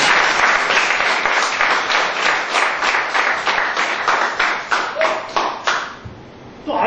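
Audience applause fills a lecture hall in a dense, steady clapping wash that fades toward the end, with no voices over it.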